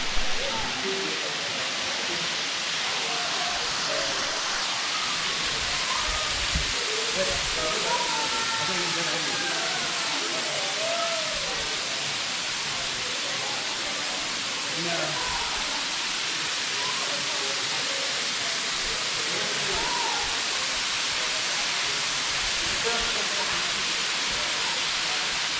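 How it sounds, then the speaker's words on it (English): A waterfall in the North Carolina mountains pours in a constant broadband rush, close and full, with a few birds chirping faintly over the steady roar. "And there is the waterfall."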